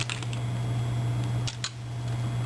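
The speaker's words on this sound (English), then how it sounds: "is cut off the end of one of the earbuds" Scissors snipping through the end of an earbud cable, a few short crisp clicks over a steady low hum, close and fairly quiet.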